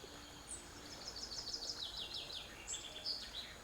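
Birdsong in a calm outdoor background for guided relaxation, a quiet run of high, quick chirps and trills repeating throughout with no other sounds in front.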